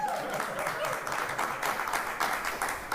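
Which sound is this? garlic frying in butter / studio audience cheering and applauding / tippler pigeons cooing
studio audience cheering and applauding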